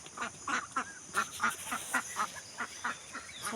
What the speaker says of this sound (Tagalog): Yan mga itik namin yung piso pero malaki na.